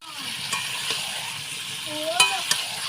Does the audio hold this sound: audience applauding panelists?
no